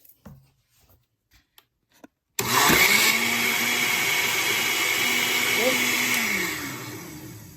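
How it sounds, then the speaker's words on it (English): An electric blender mixes eggs, vanilla essence and eggnog. A few quiet knocks come first, then the motor starts abruptly with a loud, steady whir that holds for several seconds before easing off slightly. "It's all blending there. My eggs, my vanilla essence, and my eggnog."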